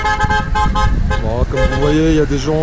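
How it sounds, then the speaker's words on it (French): Car horns honk repeatedly at an anti-pass sanitaire protest rally in Arena, Corsica, with short toots followed by longer, wavering blasts, while someone speaks French close over them. "il y a des gens qui klaxonnent"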